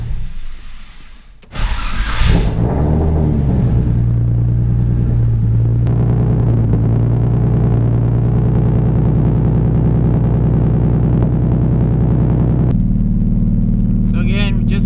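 A built 1994 Nissan Skyline R33 with heavy modifications, in its break-in period, fires up with a loud burst after a brief crank, then settles into a steady, deep, close idle that continues throughout.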